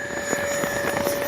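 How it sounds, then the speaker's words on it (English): An E-flite 80mm Habu XS RC jet flies in strong gusty wind, its steady ducted-fan whine blending with a roaring, buffeting wind noise across a short continuous stretch. "I don't know which is louder, the wind or the jet, as far as the howl."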